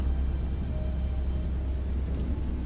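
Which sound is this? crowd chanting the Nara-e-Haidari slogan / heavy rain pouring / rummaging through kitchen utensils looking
heavy rain pouring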